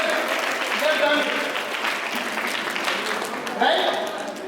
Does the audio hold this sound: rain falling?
no